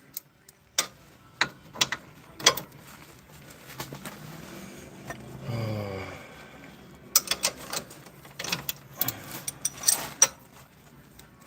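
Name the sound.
ratchet wrench turning on Ford Escape control arm bolt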